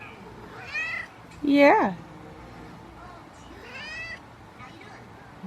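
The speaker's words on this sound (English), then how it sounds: "that's the other cat I had to catch this morning" A cat gives one loud, close, rising meow, with quieter mewing sounds just before and after it. A person speaks briefly in between.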